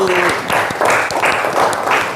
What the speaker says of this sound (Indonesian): Tepuk tangan, bagus sekali